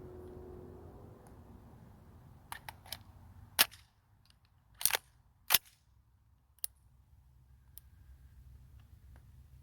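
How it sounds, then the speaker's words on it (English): An AR rifle being loaded: a quiet stretch, then a scattered series of sharp metallic clicks and clacks, including a few louder snaps near the middle, close and otherwise silent. "Load it back up, because an unloaded gun is a club."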